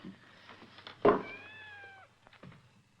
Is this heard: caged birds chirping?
no